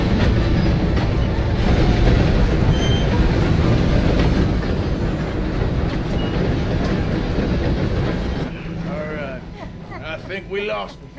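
A train rumbles past in the Red Dead Redemption 2 game, a loud continuous rolling clatter of wheels on rails that fades toward the end as voices speak.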